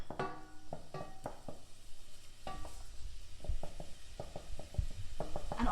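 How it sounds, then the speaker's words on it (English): Chopped onion sizzles in oil in a saucepan and is stirred around, with several sharp scraping knocks of a spoon against the pan over a steady low frying hiss. No talking. "So we pop our onion in,"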